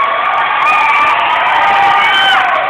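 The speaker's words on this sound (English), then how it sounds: "Give him a hand and clap." A live show crowd cheers and whoops loudly and continuously, a thick roar of voices with whistle-like shouts riding on top. Individual claps are hard to pick out.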